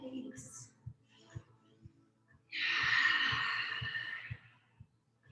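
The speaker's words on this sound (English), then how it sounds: "Engaging that warrior breath through Jai breathing. Trying to make that ocean sound." A long, breathy ujjayi ocean breath during a vinyasa yoga flow: one steady, airy exhale of about two seconds rising midway and fading out, over soft rhythmic low thumps from background music.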